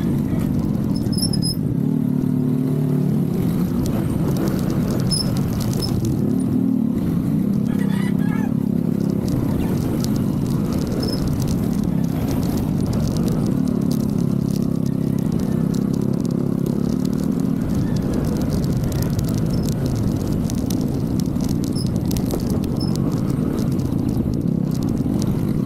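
Motorcycle engines drone continuously while riding over a rough road, the bikes bouncing, with occasional rattles and bumps over the steady rumble.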